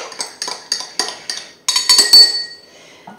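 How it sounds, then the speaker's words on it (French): A metal teaspoon clinks against the inside of a glass or bowl as it stirs, a run of sharp, regular taps building to a brief ringing scrape, close and loud with no talk. "Vous remuez."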